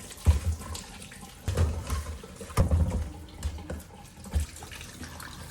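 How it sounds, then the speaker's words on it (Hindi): Beetroot and carrots washed under a running tap, water splashing and gurgling at close range with irregular surges and thuds as the vegetables are handled. "चलो, इन सब फ्रूट्स को हम अच्छे से वॉश कर लेते हैं।"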